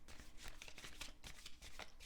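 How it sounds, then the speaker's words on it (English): A deck of cards is shuffled quickly and softly up close, a brief riffling flutter of papery slaps. "I'm just going to shuffle here real quick."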